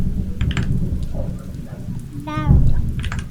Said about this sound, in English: It's actual thunder.